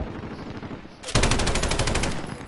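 Rapid automatic gunfire in a Call of Duty video game, a sharp burst of evenly spaced shots that begins abruptly and rattles on loudly over softer background game noise.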